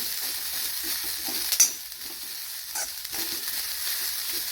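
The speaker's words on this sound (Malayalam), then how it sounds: "നന്നായിട്ട് വേവണം. ശരിക്ക് ബ്രൗൺ കളർ തന്നെ ആവണേ തേങ്ങ." Grated coconut with curry leaves fries in a pan until brown, hissing with a steady close sizzle while it is stirred, with a few scraping knocks from the spoon.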